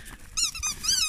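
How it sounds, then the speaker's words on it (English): Squeaky dog toy squeaking in a few quick, bright bursts at close range, with a dog nearby and no talking. "Did you like my squeaky?"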